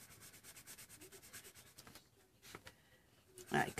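A colored pencil scratches across the paper of a Dollar Tree coloring book in quick, rhythmic back-and-forth strokes, faint and close, with a few softer pauses between bursts of shading.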